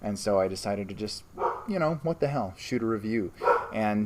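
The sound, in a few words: dog barking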